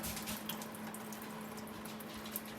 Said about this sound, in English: This is how we wash our hands, with the tiniest amount of water possible.